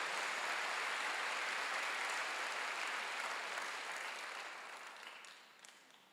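A church congregation claps together during a Wednesday worship service, a broad wash of applause that stays even, then gradually fades toward the end, heard at a moderate distance.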